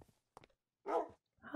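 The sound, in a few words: dog barking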